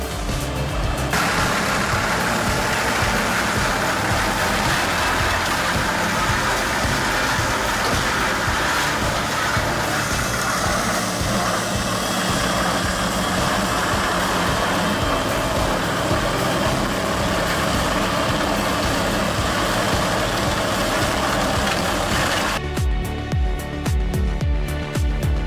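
A Vermeer HG6000 horizontal grinder runs hard while working wood, a loud, steady droning engine roar with dense mechanical grinding noise that holds constant for about twenty seconds before cutting to a different sound.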